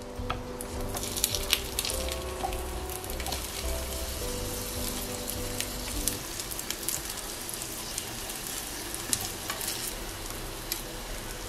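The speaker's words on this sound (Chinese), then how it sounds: "将它放入平底锅里面， 小火慢煎。" Batter-coated eggplant pieces pan-fry slowly over low heat in rapeseed oil in a flat pan, giving a loud, steady, close sizzle and crackle that runs unbroken throughout with no talking.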